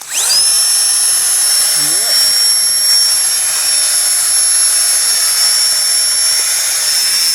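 A loud, steady high-pitched roar with a whining hiss from a small camping stove burner starts abruptly and continues unbroken, close by.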